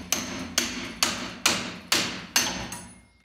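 A heavy hammer strikes a pickle fork to separate steering linkage on a vehicle's straight front axle: six loud, evenly spaced metallic blows about half a second apart, each ringing briefly.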